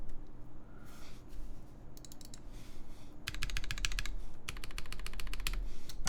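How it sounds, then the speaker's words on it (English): Rapid bursts of key clicks on a QK Alice Duo mechanical keyboard, close and crisp, with pauses between flurries of typing and a faint background hum. "Tyler did a Nosferatu typing test, so like this."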